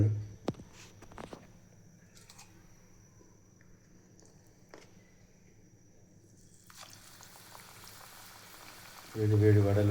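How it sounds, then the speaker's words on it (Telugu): Onion vadas go into hot oil: a faint low bubbling and a few scattered clinks and drips are heard through most of it, then a sudden loud, bright frying surge erupts near the end. "ఇప్పుడు ఆయిల్ అయితే వేడైంది, అందులో వేసుకుందాం మనం"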